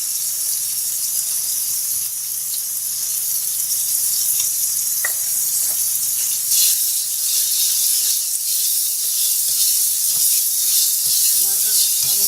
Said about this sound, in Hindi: टमाटर शामिल करके इसे फिर 1 से 2 मिनट फ्राई करेंगे